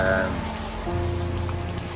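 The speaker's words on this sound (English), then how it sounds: "It is raining, it is cold, it's windy" Steady rain patters on a surface close by in cold, windy weather in A Fonsagrada, Galicia, a dense even hiss with a low hum underneath.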